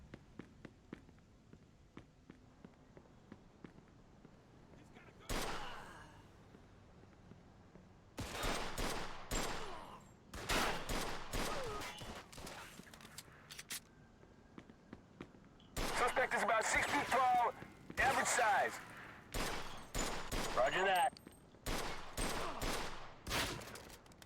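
Gunfire in Mafia 2: rapid bursts of automatic shots come in several clusters, loud and crackling, between quieter gaps filled with footsteps, and someone talks at times.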